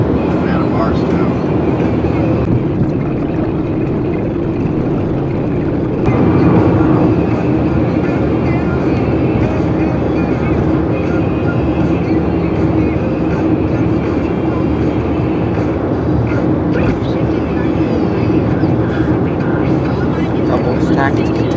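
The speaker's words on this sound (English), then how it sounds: "Here we see another train in the distance." Freight train with stacked containers passing in the distance near Barstow, a steady broad rumble under continuous vehicle or wind noise, with someone talking over it.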